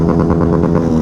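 A Honda Grom motorcycle engine rumbles close by on a city street, a loud pulsing mid-pitched drone held steady throughout the short moment.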